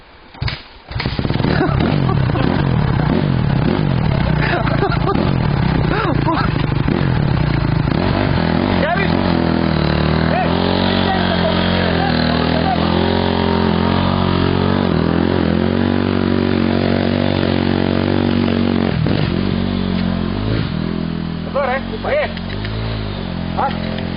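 An enduro motorcycle engine revs hard and loud at close range for a long stretch, its pitch rising and falling through repeated throttle blips, while people shout and talk over it.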